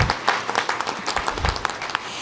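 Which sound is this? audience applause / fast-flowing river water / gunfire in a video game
audience applause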